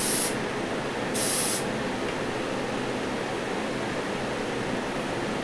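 Steady close hiss of automotive clear coat being sprayed onto model tanker trucks, running continuously with two brighter bursts near the start.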